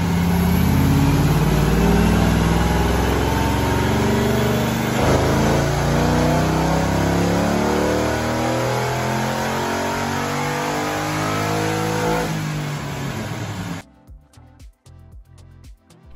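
A Toyota 86 with a performance cam runs on a dyno, its engine roaring loud and close in one long sustained pull that climbs in pitch, then cuts off abruptly near the end into quieter clicks and shop noise.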